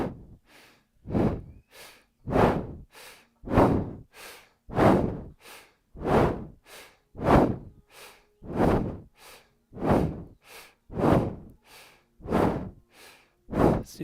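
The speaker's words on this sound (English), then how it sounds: "inhale to the right, exhale to the left" Slow, deep yoga breaths alternate inhale and exhale in a steady rhythm, about sixteen close, loud airy breaths over the span with brief pauses between, no talking.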